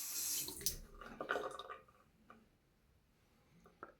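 Running tap water rinsing a Blackland Blackbird safety razor, a faint splashing gush that fades after a couple of seconds, followed by a few soft drips and taps.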